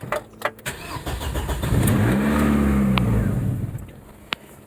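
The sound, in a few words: Ford Escort Mk6 Si engine starting, struggling to idle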